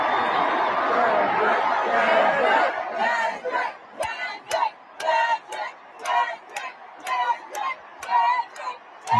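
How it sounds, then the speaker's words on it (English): A large concert crowd at a show in Toronto roars loudly and then breaks into rhythmic chanting in repeated bursts, with sharp claps or stomps punctuating the chant. "take a look at the crowd noises here."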